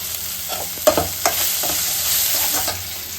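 Curry leaves fry in hot oil, giving a steady broadband sizzle with several sharp spatters and stirring knocks near the start, close and alone without talk.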